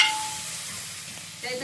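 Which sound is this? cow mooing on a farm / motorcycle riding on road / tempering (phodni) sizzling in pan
tempering (phodni) sizzling in pan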